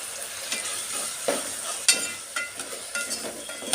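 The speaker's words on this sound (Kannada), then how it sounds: "ಈಗ ಈರುಳ್ಳಿ ಫ್ರೈ ಆಗಿದೆ ಈಗ ಎರಡು ಟೊಮೊಟೊನ ಹಾಕ್ಕೊತಿದ್ದೀನಿ" Tomatoes fry with onions in a pan for egg biryani, a faint steady sizzle close by, broken by several soft clicks and scrapes of stirring.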